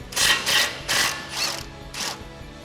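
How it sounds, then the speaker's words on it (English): A ratchet with an 8 mm socket turns a small bolt on a Ford F150 near the front suspension, five quick rasping clicks in an even rhythm, close and distinct. "Grab an 8 millimeter socket and remove the smaller bolt"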